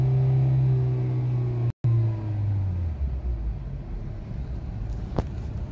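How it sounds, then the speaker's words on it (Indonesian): Kia Picanto, Kia Rio or Hyundai Avega automatic held in neutral after an ECU install, its engine revved to 3000-4000 RPM: a loud, steady high idle hum with a brief cut, then the revs drop to a lower rumble. "Setelah pemasangan ECU, kita hidupin dan kita gas di RPM 3000 sampai 4000, posisi netral sekali lagi"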